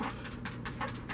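A dog pants in quick, regular breathy bursts, close and steady, with about five or six pulses in just over a second and no talking.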